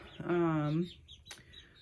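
Chickens kept inside a coop give a drawn-out cluck followed by a brief squawk, close and moderately loud against a quiet background.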